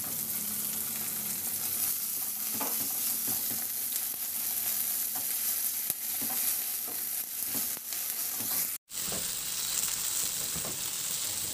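Tomato paste sizzles steadily in a hot frying pan while a spoon stirs and scrapes through it, an even frying hiss with occasional clinks, close and continuous.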